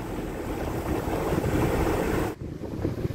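Gusty wind at a canal boat mooring buffets the microphone in a loud, rumbling roar, then drops away abruptly near the end, leaving quieter outdoor background.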